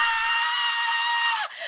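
A single high, sustained scream from a woman, imitated by a player's voice during a tabletop role-playing game, holding steady and loud for over a second before breaking off abruptly.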